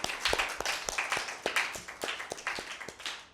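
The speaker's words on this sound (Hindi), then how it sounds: "क्या आपको ये कहानी अच्छी लगी? तो समरा के लिए भरपूर तालियां।" Children give a round of applause after a story on a Father's Day program, a quiet scatter of uneven claps continuing steadily for a few seconds.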